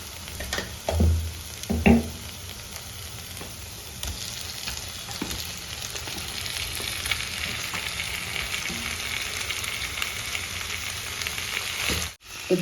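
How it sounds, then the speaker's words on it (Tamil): Chicken frying in a tomato masala for pepper chicken, a steady close sizzle with a few scraping stirs and clunks of the spoon against the pan early on, no talk. "இப்போ நம்ம எடுத்து வச்சிருக்க சிக்கனை உள்ள ஆட் பண்ணிடலாம்."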